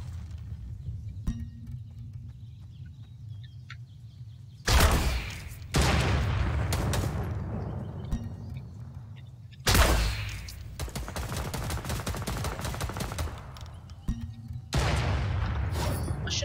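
Fortnite gunfire rings out as several loud bursts of rapid shots, each lasting about a second, against a low steady game rumble, with quieter stretches between volleys.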